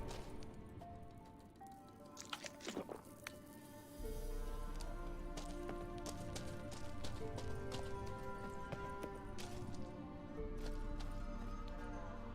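Rhythmic hoof clip-clops from a horse moving at a steady pace in The Witcher 3, layered over ambient game background sounds and music.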